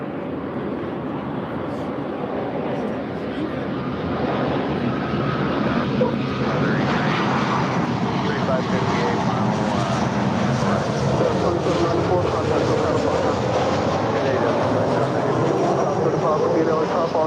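A Delta Boeing 737-900ER jet airliner roars steadily at LAX, a loud, broad engine rumble and hiss that holds throughout with no one talking.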